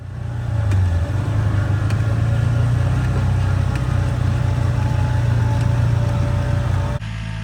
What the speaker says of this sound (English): Mama cruising in her convertible